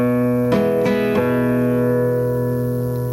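A flamenco nylon-string guitar: a thumb note rings while three quick downward brushing strums cross the strings, then the chord sustains and fades slowly.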